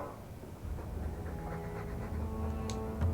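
A Mabari war dog from the video game Dragon Age 2 pants in quick, soft, rhythmic breaths, close and fairly quiet, with nothing else over it.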